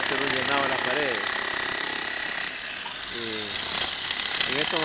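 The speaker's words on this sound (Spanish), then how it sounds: "En estos momentos hemos alquilado un taladro para que saque esta estructura, esta base antigua" A rented demolition drill breaks up an old concrete base on a construction site, a loud rapid hammering that runs nearly continuously with brief pauses, while someone talks over it.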